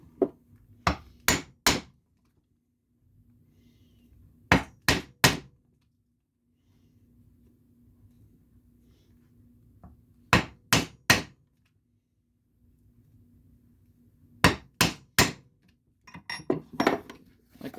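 Hammer strikes on a leather western holster in four bursts of three or four sharp, evenly spaced blows, with quiet pauses and a faint low hum between them.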